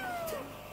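A single short cat meow, close and fairly clear, sliding downward in pitch before trailing off, with no talking over it.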